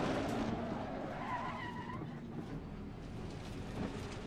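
A Jaguar G3 race car braking hard and skidding at Zolder in Assetto Corsa Competizione, a sustained loud tire squeal and scrub over engine noise lasting several seconds, with no talking.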